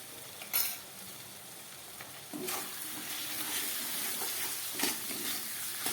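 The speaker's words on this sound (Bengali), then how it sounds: "আবার এটাকে খুব ভালো করে মশলা দিয়ে কষিয়ে নিতে হবে" Fish curry spices, coriander powder and chili powder, being stirred and sautéed in a pan: a steady sizzle with scraping stirring strokes, a sharp clatter near the start and louder bursts partway through.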